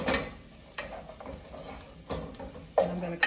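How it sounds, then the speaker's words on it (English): Garlic sizzles in a soup pot as a utensil stirs it, with soft frying crackle underneath and several distinct scrapes and clinks against the pot, close and fairly quiet. "And I'm going to continue stirring"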